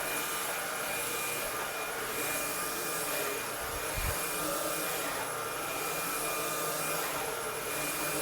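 Cordless vacuum cleaner running on a rug with a steady, close, high-pitched whine of suction and a brief low thump near the middle.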